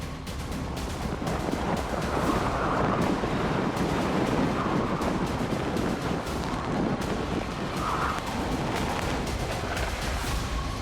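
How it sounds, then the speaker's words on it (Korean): Typhoon Maysak battering Busan at night with strong wind and heavy rain, a loud continuous roar of gusts buffeting the microphone and lashing rain, surging in waves with no pause. "몸을 가누기 힘들 정도의 비바람이 불고 있습니다."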